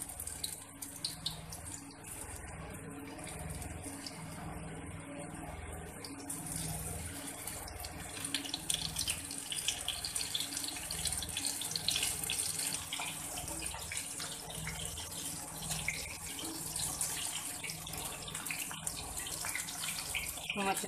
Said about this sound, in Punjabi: ਇਸ ਨੂੰ ਫਰਾਈ ਕਰ ਲੈਣਾ।